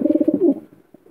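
Female pigeon at a nest with young, giving a short run of soft, low, throaty coos in a quick pulsing rhythm, close and alone, fading into quieter murmurs.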